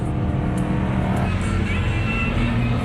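Off-road vehicles driven by kids ripping through sand at Camp RZR, with engines droning steadily and fairly loud throughout, a low continuous motor rumble without clear passes or gaps.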